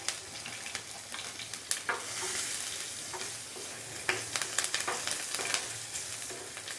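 Green chilies frying on low heat in oil with asafoetida, a close, steady sizzle broken by scattered sharp crackles and stirring scrapes, with no talking.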